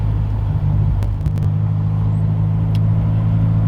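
A Mini car cruises at low RPM through a residential neighborhood while its owner tracks down a rattle; a steady, close engine hum and road rumble fill the cabin, with no voices.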